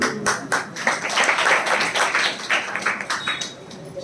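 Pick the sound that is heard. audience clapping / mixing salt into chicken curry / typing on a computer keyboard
audience clapping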